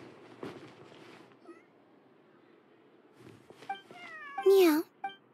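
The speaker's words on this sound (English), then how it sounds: "Meow." A cat gives a few clear, close meows, one long and drawn out near the end, with quiet talking heard earlier.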